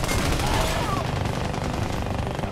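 Rapid, dense gunfire in the video game Army of Two: Devil's Cartel, a continuous loud barrage of overlapping shots filling the short stretch.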